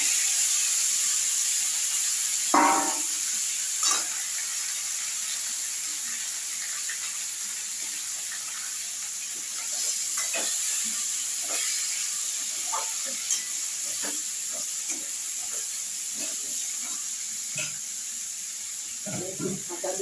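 Pieces of ash gourd hit hot oil in a pan seasoned with five-spice and asafoetida, giving a steady soft hiss and sizzle with scattered clicks and light stirring knocks.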